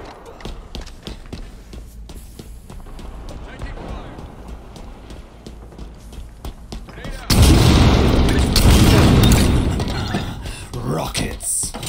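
Rocket explosions in the shooter Halo Infinite: a heavy, loud blast erupts and rumbles for a few seconds after a stretch of scattered gunfire and footsteps, with voices heard in the mix.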